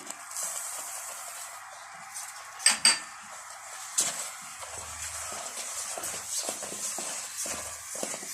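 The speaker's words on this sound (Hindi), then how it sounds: "मुसलसल आप चम्मच हिलाते रहें" Semolina and coconut halwa being stirred with a spoon in a pan, soft scraping and shuffling with a few sharp clinks of spoon against metal, close and fairly quiet, no talking.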